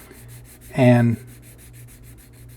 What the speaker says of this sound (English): the wet sanding really does reduce the amount of work you have to do